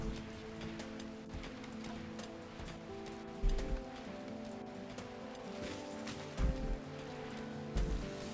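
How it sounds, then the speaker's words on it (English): Steady rain in the video game RimWorld, a faint, continuous patter on surfaces with a few soft low thumps scattered through it. "Little fires are going to be annoying until the rain does some work for me, which it's doing."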